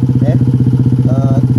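A Honda CT115S motorcycle runs during a test ride, its engine throbbing in a steady fast loud pulse up close, with faint higher tones drifting over it.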